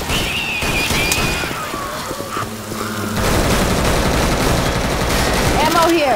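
Sustained automatic gunfire and bursts in Left 4 Dead 2 using incendiary ammo, loud and continuous with booming impacts, under shouted voices.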